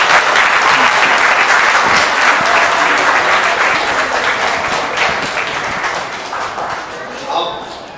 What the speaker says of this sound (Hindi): तो एक बार इनका तालियों से स्वागत करना